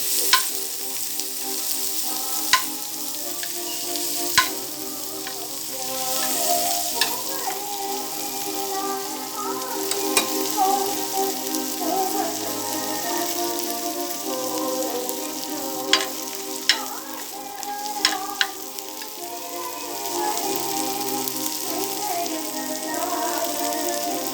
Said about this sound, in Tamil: அதுக்கப்புறம் தக்காளி, கொத்தமல்லியை வந்து அதில் போட்டுக்கோங்க. நல்லா வணங்கட்டும்.